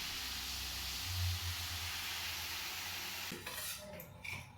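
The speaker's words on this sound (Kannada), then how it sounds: "ಇವಾಗ ಒಗ್ಗರಣೆ ಹಾಕ್ಬೇಕಷ್ಟೇ" Oggarane tempering sizzles softly in a pan on a home kitchen stove, a steady hiss of frying with a spoon scraping and clinking against the metal toward the end.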